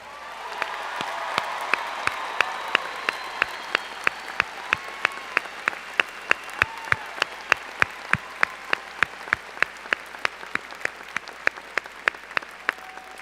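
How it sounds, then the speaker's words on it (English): Audience at a high school graduation ceremony applauding steadily, a dense crowd clapping throughout with distinct sharp claps standing out in a regular rhythm, sustained and moderately loud. "Please give these students a round of applause."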